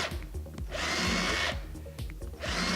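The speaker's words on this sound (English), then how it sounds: "I'm drilling holes" Power drill boring holes in a workpiece, the motor whining in two long bursts with a short pause between, close and loud over a clattering low rumble.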